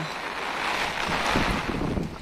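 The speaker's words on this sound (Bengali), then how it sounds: "বৃষ্টি আর বাতাস আমাকে মেরেছে" Blustery wind from Cyclone Remal in Dhaka roars and buffets the microphone in a continuous rushing wash, like wind-driven rain.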